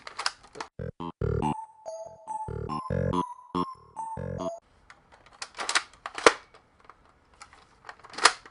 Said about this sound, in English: Oh, got it cocked up there, so boom.